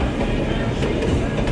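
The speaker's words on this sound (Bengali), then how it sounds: "ইন্দোর থেকে রাতলাম অবধি যায় metre gauge train, passenger train যাচ্ছে।" Seen from inside a carriage, a meter gauge passenger train runs between Indore and Ratlam with a loud, continuous rumble and a rattling clatter of wheels on rail.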